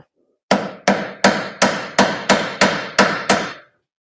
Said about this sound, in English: Use a little hammer.